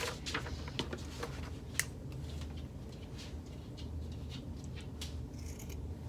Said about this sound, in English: I'm going to trim away 1/2 inch from the bottom of both of my fleece